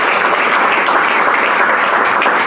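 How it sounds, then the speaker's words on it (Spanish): Applause from a church congregation during a worship service, a loud, dense, continuous clapping that fills the room from start to finish with no voices over it. "Regálele un aplauso, Señor."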